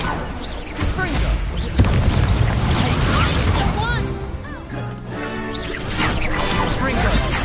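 Confringo fire spells from Hogwarts Legacy burst in repeated booms and crashes, dense and loud, while a person talks over the barrage of explosions.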